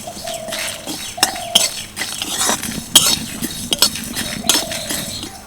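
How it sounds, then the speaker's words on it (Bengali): Whole spices, including dried chilli, cumin, fennel and coriander seeds, rattle and clink sharply against a dry wok as they roast, with repeated bright scraping and tapping strokes and no talk. "এবার এই সব মশলাকে একসাথে ভালো করে ভেজে নেব"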